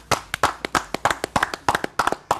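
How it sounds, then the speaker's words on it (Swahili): A small group clapping at a sports awards event, a brisk, uneven run of sharp close hand claps in quick succession, loud and without talk. "Makofi tena tafadhali."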